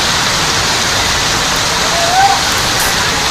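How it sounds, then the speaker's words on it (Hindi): Floodwater rushes over a railway track during heavy monsoon flooding, a loud, dense and steady roar of churning water that never lets up. "रेलवे ट्रैक पर दरिया बहने लगा है।"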